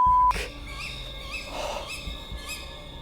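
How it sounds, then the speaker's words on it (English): Bird call in a Romanian forest at night, heard as a few faint, thin chirping notes spread over a quiet background after a brief louder burst at the start. "That was a bird."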